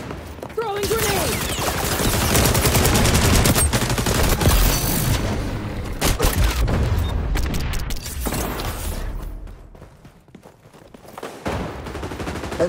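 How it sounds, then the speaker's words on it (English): Grenade blast and rapid gunfire in an XDefiant Arena Occupy match: dense, loud bursts of shooting and booms run almost continuously, easing slightly near the end, with game voice callouts over the top. "Throwing grenade."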